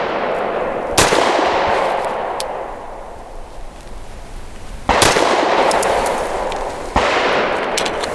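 Three sharp, loud pistol shots from a Grand Power P1 Ultra, spaced several seconds apart, each with a short reverberant tail at an outdoor range.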